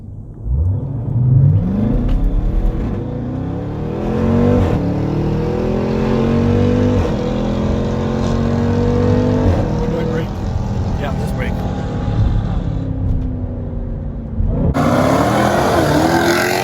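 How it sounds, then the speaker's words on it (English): A Jeep Trackhawk roars as it accelerates hard in a race against a 950-horsepower Trackhawk. The loud engine climbs in pitch through the gears with a distinct shift near the end, heard from inside the cabin. "I raced a 950 horsepower Trackhawk, 700 horsepower to the wheels"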